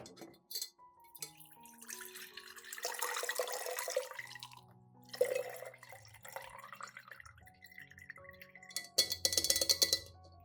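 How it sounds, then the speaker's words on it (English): Clear liquid strained off soaked fruit peels for an orchid fertilizer, trickling and dripping in a light, irregular stream with a few small clinks of a kitchen container, close by and alone. "I strain out all the peels and keep only the clear liquid."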